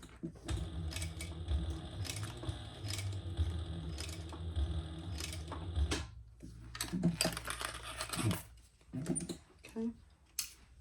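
A sewing machine stitches down and across the folded raw side of fabric, running in a steady mechanical whir with rapid rhythmic clatter for about six seconds before stopping, followed by brief talk and small handling noises.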